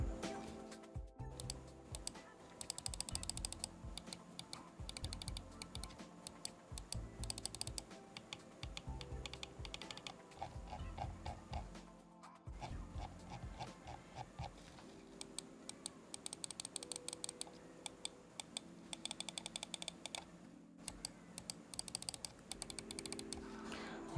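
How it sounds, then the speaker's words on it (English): Stock TTC switches on a Zaopin Z2 mechanical keyboard clack in steady runs of close, crisp typing, fast bursts separated by brief pauses, with no voices. "let's take a listen at the stock TTC switches"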